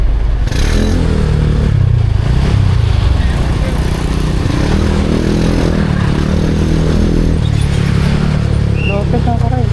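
A motorcycle engine drones and revs along a road on a Mindanao to Manila trip, loud and close with rising and falling pitch, mixed with road rumble and clatter while people talk.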